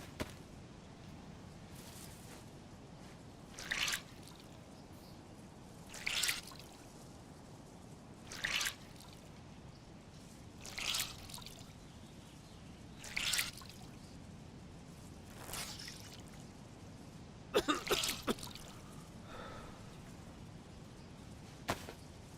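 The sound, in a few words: wringing out wet clothes, dripping water, in video game DayZ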